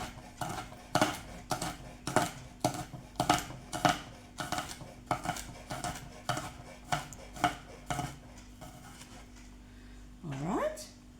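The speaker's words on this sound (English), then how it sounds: "And then you're going to slice it very nice and fine." Fine slicing with a knife on a cutting board, a steady series of crisp chopping taps about two per second for eight seconds, close and moderately loud, followed by a short whining sound near the end.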